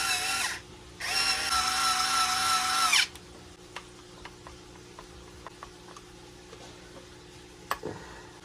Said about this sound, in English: now we need to put the shock tower screws back in